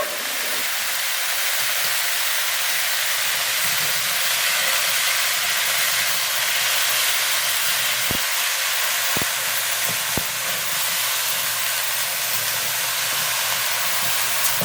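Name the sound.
potato and cauliflower boiling with turmeric and salt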